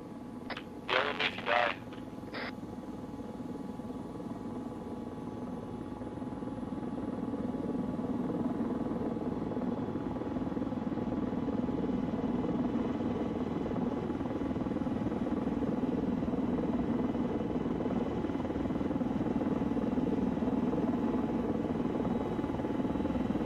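Helicopter engine spooling up, a few sharp clicks and knocks at the start, then a steady rising whine and rotor drone that grows louder and holds, with no speech.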